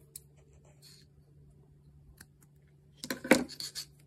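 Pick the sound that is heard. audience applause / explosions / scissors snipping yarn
scissors snipping yarn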